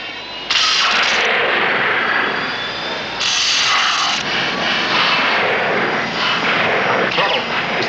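A spacecraft engine climbs in altitude, a loud, roaring rumble with hissing thrust that surges twice in bursts, a science-fiction effect from the series Space: 1999.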